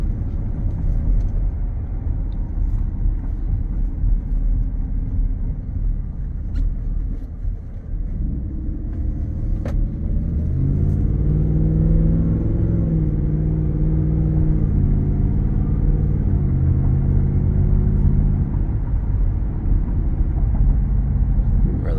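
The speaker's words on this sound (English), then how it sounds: "Just doing a quick drive just so you can tell that it drives straight." Steady low road rumble and engine hum from inside a moving 2024 Ford F-150 XL pickup with a Whipple supercharger, the motor note rising and shifting midway as it accelerates.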